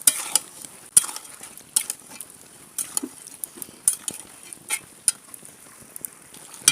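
Beef being stirred in a pan with onion, garlic, ginger and cumin paste, turmeric and salt: a run of sharp spoon scrapes and clacks against the pan over a faint sizzle.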